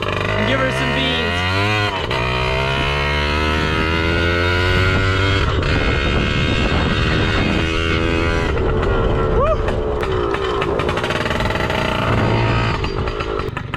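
A cheap 2-stroke pit bike with a three-speed gearbox and no clutch revs hard after a downshift into first, its buzzing engine climbing and falling in pitch for a sustained loud run with wind noise and a voice talking over it.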